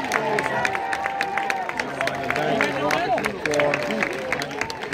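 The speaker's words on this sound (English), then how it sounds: "give the girls a round of applause for an outstanding performance" An audience claps steadily after a girls' dance performance, a dense, fairly close patter of many hands with crowd murmur and a few voices mixed in throughout.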